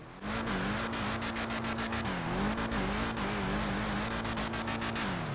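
A steady sports car engine, the Rhinehart in GTA 5 Online, heard from inside, drones at high revs throughout, its pitch wavering slightly as it holds, with faint clicking underneath and no talking.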